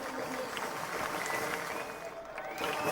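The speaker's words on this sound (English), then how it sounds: "Applause from Mercedes-Benz." Applause and cheering from the Mercedes-Benz team at a DTM touring car race, a steady clatter of clapping with voices mixed in over three seconds.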